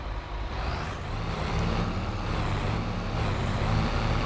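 A truck engine in Farming Simulator 22, a Lizard V340 flatbed autoload, idling with a steady, dense rumble after starting up, with a faint whine rising and falling above it and no talk.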